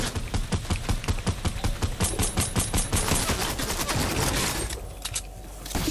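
Rapid automatic gunfire in Fortnite, loud and continuous bursts of dense repeating shots that fill the whole stretch and fade slightly toward the end.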